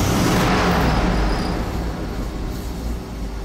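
A Dodge 361 V8 truck engine with a freshly rebuilt Carter BBD carburetor runs loud and close, a steady rumbling roar that surges at first then settles into a continuous drone.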